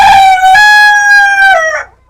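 A single rooster crows loudly and close by on a poultry farm, one long drawn-out cock-a-doodle-doo that rises and then trails off.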